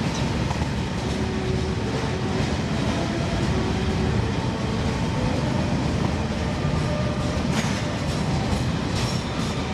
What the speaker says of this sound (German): kilometerlange Güterzüge sind keine Seltenheit.